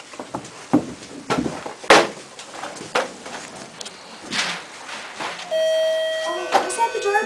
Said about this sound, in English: Oh, was that the doorbell again?